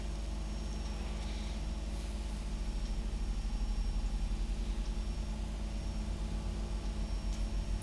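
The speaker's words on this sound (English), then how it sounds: "Start the left hand engine now." An airliner's left jet engine spools up in the X-Plane flight simulator, a low steady rumble building and pulsing as it starts and settles toward idle, heard alone.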